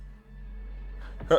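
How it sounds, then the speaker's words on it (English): A single sharp sneeze bursts out close to the mic at the very end, after more than a second of near-silent room hum. "I'm gonna sneeze."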